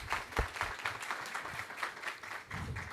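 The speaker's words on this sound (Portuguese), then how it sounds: "Uma salva de palmas." Audience applause at a business innovation and sustainability panel, a steady round of clapping from a seated crowd at moderate level, with one sharper clap standing out near the start and the sound holding throughout.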